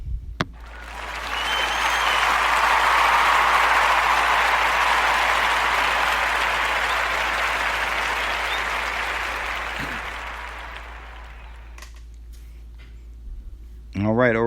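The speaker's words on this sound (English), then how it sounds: "Everyone, give a round of applause" Audience applause greeting podcast guest Enoch, a dense sustained wash of many clapping hands that swells quickly, holds steady for about ten seconds, then fades, with brief talk near the end.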